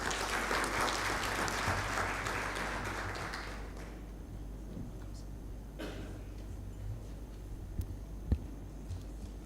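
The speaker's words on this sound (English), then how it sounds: "A round of applause." Conference audience giving a round of applause, dense clapping from many hands for nearly four seconds, then fading into quiet room tone with a few scattered knocks.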